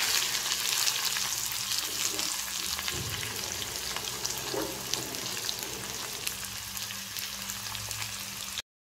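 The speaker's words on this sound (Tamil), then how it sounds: "இப்போ நான் ரெண்டு சின்ன சைஸ் ஆனியனை பொடிசா நறுக்கி போடுறேன்." Finely chopped onions sizzle and crackle steadily in a hot pan while making potato rice, with occasional stirring scrapes; no one speaks.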